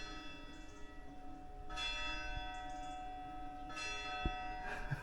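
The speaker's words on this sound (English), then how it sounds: "Can you hear the church bells?" Church bells ringing in a town in Abruzzo, Italy, heard from indoors at a moderate distance, with several sustained ringing strikes overlapping into a resonant hum.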